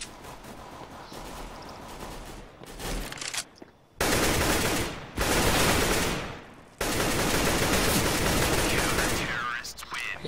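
Bursts of AK rifle fire in the video game CS:GO, several sustained loud volleys separated by short pauses.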